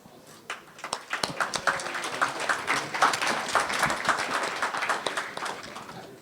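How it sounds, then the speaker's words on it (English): An audience at a Rakuten tech conference session applauds to welcome the presenter: clapping swells from a few hands into a steady, moderately loud round of applause that carries to the end. "please welcome here with a big applause"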